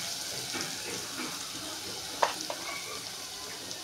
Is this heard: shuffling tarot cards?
no